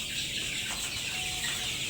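Chickens on a poultry farm, a brief burst of soft clucking from several birds close by against steady barn background noise.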